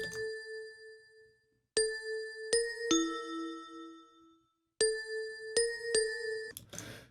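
Bright vibraphone handbell synth notes in a plugg beat play a short repeating melodic phrase, clear ringing tones with sustained decay, ending in a brief noisy swish.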